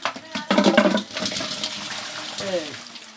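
Water and live koi and shing catfish poured out of a container, a loud splashing gush for about half a second that fades into trickles, with someone talking briefly over it.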